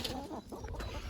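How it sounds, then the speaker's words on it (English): Neighbouring backyard chickens cluck faintly and at a distance for about a second, with a few soft, broken calls. "obviously these are the neighbours' chickens"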